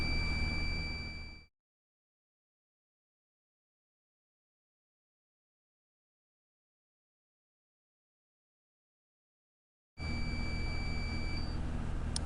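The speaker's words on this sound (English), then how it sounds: "of listening to this buzzer" A decoder reader's steady, loud electronic buzzer tone sounds during a firmware upgrade, cuts off into silence for several seconds, then resumes just as loud.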